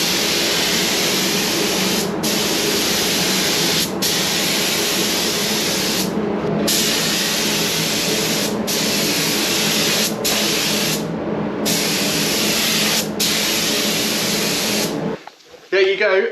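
Spray gun laying a primer coat on a Mercedes W124 body, a loud continuous hissing spray broken by several short pauses between passes, stopping near the end before handling noise.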